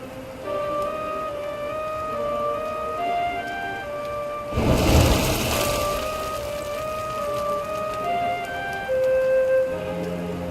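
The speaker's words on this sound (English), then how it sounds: "Looks like the rain's dying down." Rain pours down in a fantasy role-playing game, a steady wash mixed with tonal game music, and a sudden loud burst of thunder rumbles through the middle. No one speaks.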